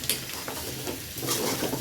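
Potatoes sautéing in a pan with ginger garlic paste, a dense close sizzle with scattered stirring scrapes and light utensil taps, steady throughout.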